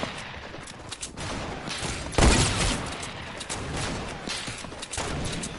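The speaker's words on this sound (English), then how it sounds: "Just keep shooting at the Dark Warrior." Sustained rattling gunfire from a video game rolls on throughout, with a louder burst near the middle and steady shots continuing around it, no talk over it.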